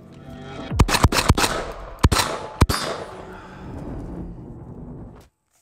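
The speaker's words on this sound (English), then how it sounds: "we're gonna actually shoot some of the rounds through the Benelli" Shotgun blasts from a Turkish-made Benelli M4 clone combat shotgun fired outdoors: a quick string of loud, sharp reports in two bursts, each echoing briefly before fading out.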